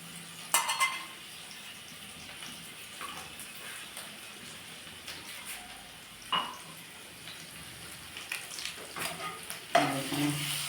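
Garlic paste fries quietly in a pan for an egg curry, a soft steady sizzle broken by a few sharp clinks and scrapes of a utensil against the pan.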